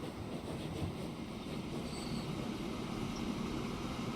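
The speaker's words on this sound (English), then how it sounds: "I wait for a passing train to come by." A train pulls out of a depot in the video game Transport Fever 2, a soft, steady rolling rumble of rail cars holding at low level from start to finish, with no speech.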